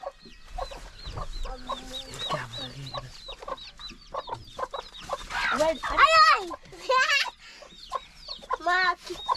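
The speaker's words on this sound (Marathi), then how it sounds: "कोंबडी दडप जा" A live hen is held down in a home kitchen during preparation for chicken biryani and clucks in agitated, rising bursts that grow louder toward the middle, mixed with a woman's laughter and brief talk.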